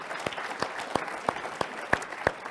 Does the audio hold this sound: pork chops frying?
no